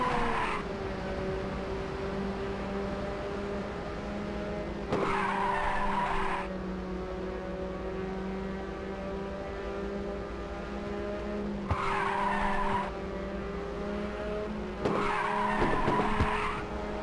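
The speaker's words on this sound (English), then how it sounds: "Excellent drift!" Tires screech steadily through a long drift in Ridge Racer 2, the engine droning beneath, with short bursts of sharper squeal recurring every few seconds and no voices over it.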